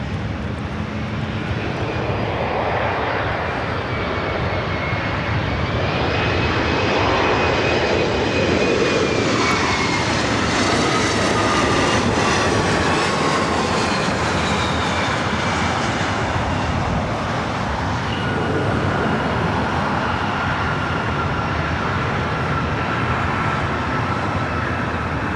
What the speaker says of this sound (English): That flight heading to Vegas, Southwest Airlines flight 495